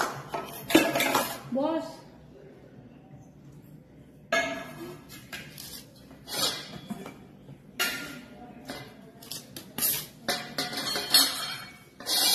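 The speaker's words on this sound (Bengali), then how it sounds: "এখন খাবারটা বেড়ে নি।" Food served from pots onto plates at home for a lunch of fried bitter gourd, fried okra and greens, with bursts of clinking dishes, scraping spoons and metal pot knocks, close and intermittent, and a few spoken words.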